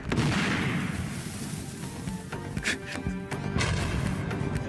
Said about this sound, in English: That explosion sound is one I used to use on Mega Man Abridged all the time.